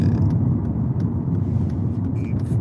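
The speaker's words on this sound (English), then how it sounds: "there's too much traffic outside" Road traffic rumbles steadily outside near ongoing roadwork, a loud, continuous low drone of passing vehicles with faint creaks and no distinct pauses.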